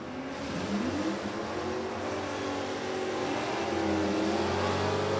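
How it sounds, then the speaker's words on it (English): A Corvette drag race car at an NHRA drag strip, Thunder Valley Motorsports Park, roaring loudly and steadily as it accelerates down the lanes, its engine note rising and sustained close by without any talk. "Here comes that Corvette of Gavin."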